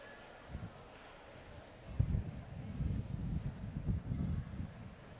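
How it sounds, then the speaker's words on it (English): Low, gusty rumbling of wind buffeting the microphone at an outdoor high school commencement, swelling and fading in bursts, fairly faint. "It is a little windy"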